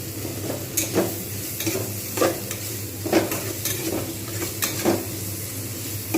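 Pointed gourd frying in a pan until reddish makes a continuous sizzle, broken by repeated scraping strokes of a utensil against the pan at a loose, regular rhythm, close and clear.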